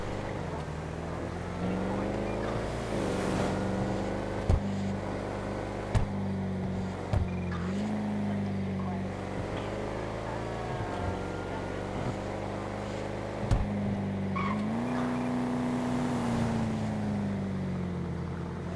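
A powerful car engine drones continuously in GTA 5, holding a steady low hum whose pitch rises and falls as the car speeds up and slows. A few sharp clicks sit over it, and speech is present at times.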